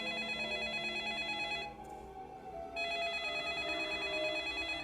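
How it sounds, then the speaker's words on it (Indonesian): A mobile phone ringing with an incoming call, a steady electronic ringtone pattern that briefly drops away before resuming, fairly quiet and alone. "HP Aldi berbunyi nada panggilan masuk"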